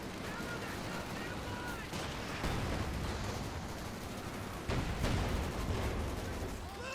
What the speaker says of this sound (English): Rough grenades going off left and right here. We got an airstrike in there from Agreys, being used as close air support.